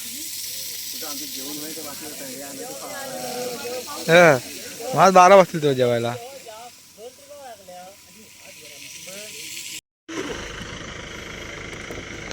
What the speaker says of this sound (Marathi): तर मंडळी पाणी मारायचं काम चालू झालं आहे